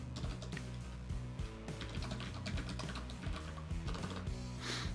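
Rapid clattering keystrokes on a computer keyboard, close and steady with short irregular bursts and brief pauses, no talking over it.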